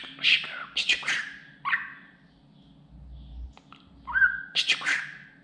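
A budgerigar gives bursts of bright, warbling chirps and short whistled notes, close and fairly loud, with pauses between phrases and a low background hum.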